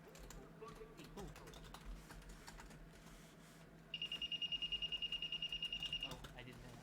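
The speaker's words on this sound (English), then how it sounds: "I hate the Angelica's alarm so much. It sounds like shit." Above a quiet background of keyboard typing, a rapid pulsing electronic alarm begins partway through and beeps steadily for about two seconds.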